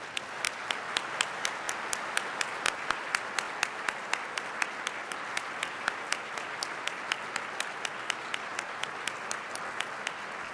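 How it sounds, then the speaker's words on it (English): Audience at a speaker-series event applauding military service members, a steady dense wash of clapping with a few sharper claps standing out, sustained at even level throughout. "I'd like a round of applause for our men and women in all of our armed services"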